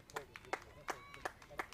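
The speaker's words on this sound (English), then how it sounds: "And you can hear the applause from the crowd." A cricket crowd claps to applaud a batter's half century at a women's T20 international in Bali, with a run of sharp, fairly regular clap bursts heard at a distance alongside a voice.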